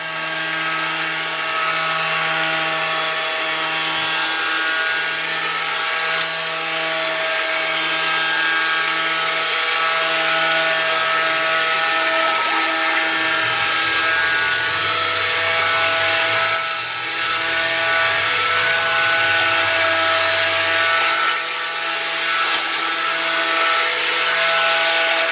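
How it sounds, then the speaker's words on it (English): A stick blender whirs loudly and steadily while mixing homemade liquid laundry detergent, its motor pitch dipping briefly midway as the load shifts. "So let's get our stick blender in."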